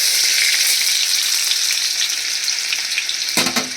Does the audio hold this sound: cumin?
yes